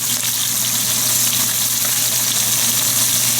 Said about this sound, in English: we'll put the oregano into the oil, into the hot oil, and put the onions